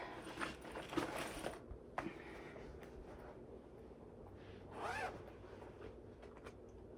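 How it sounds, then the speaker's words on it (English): A clothing zipper is pulled in a few quick, faint rasping strokes near the start, then a softer zip follows a few seconds later in a quiet room. "sorry, this is zipping"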